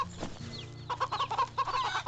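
A chicken in the game Wytchwood clucks in a quick run of short, choppy bursts over a low ambient music bed, close and fairly loud.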